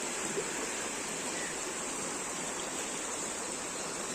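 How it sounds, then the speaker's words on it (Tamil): Floodwater rushing through a swollen river in Tirunelveli after heavy rain, a steady, dense roar of moving water that holds constant throughout with no voices. "இப்போ தண்ணி கம்மியாக தான் போகுது"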